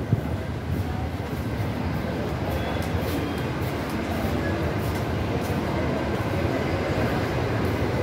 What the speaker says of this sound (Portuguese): Estamos entrando no terminal rodoviário na cidade de Teófilo Otoni.